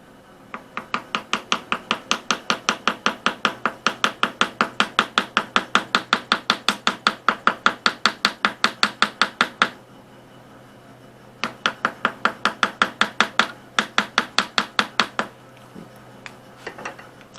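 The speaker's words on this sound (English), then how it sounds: "It'd be easier if I wasn't pushing it in my direction while I was trying to chisel it." Rapid, regular chisel taps on a wooden shifter knob, dozens of sharp close knocks in a steady rhythm, pausing briefly before a second run of strikes, then a few scattered hits.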